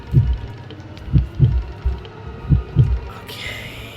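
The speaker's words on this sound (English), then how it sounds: "they changed this to heartbeat increasing" Heartbeat effect from the White Day: A Labyrinth Named School 2017 remake horror game, a steady run of low, thudding double beats repeating close and alone, followed by a brief higher hiss near the end.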